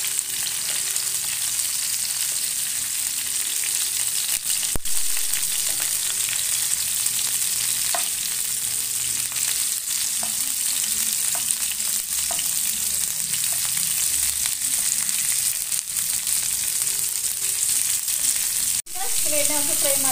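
Bitter gourd frying in oil for a bitter gourd curry, a loud, continuous close-up sizzle that holds steady throughout, with an occasional clink of a spoon against the pan.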